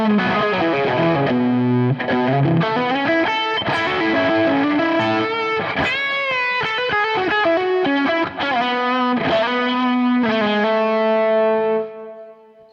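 High-gain distorted electric guitar played through HX Stomp overdrive, a sustained run of saturated chords and bent notes with a chorus-like shimmer, loud and continuous until it cuts off at the end.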